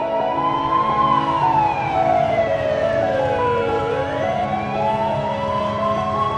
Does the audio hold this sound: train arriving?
no